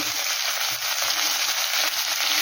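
Ground cumin, coriander and turmeric sizzle in hot oil in a pan for a homestyle fish curry, a continuous close hiss with faint stirring scrapes and no voices.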